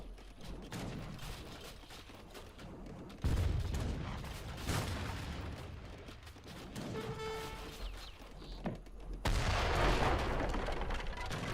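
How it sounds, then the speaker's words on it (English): Mortars shell a base from long range in Age of Empires 3, a real-time strategy game. Booming impacts and crackling gunfire roll on in a dense, noisy battle mix, with a sharp surge partway through and a heavier burst near the end. "mortar's doing a great job there in the back. Just sieging it from long range"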